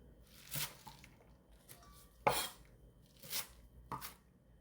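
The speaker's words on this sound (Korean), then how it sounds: "깨끗이 씻어서 한 3, 4cm 길이로 잘라줄게요." A knife cuts a bunch of washed garlic chives into short lengths on a board, making four or five crisp, separate chops with quiet gaps between them.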